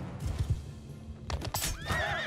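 Horse in Mount & Blade II: Bannerlord, hooves clip-clopping in battle before a loud neigh and whinny rises near the end, close and clear amid game noise.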